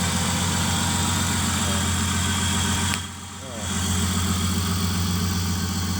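An Ecotec 3.8 litre V6 swapped into a car idles on a cold night with a steady, even, close-up rumble that dips briefly in the middle before settling back.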